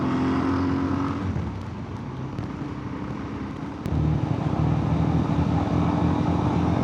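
A car drives on a loose bush gravel road near a national park, making a continuous loud rumble of engine and tyre crunch with wind buffeting, the tone shifting partway through.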